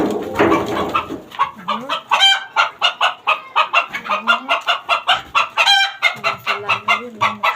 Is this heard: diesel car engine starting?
no